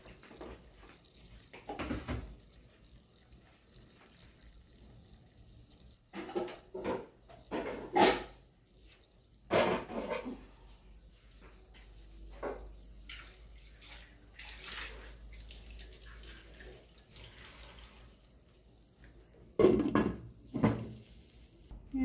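Water splashes and pours into a cooking pot of chicken broth with banana pith, in quiet intermittent bursts amid faint kitchen clatter.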